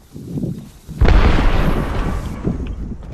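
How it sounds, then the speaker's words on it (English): A grenade goes off in the video game Apex Legends. After some quiet clatter, one loud, close, deep blast erupts and then fades into a long rumbling tail. "grenade. Watch out."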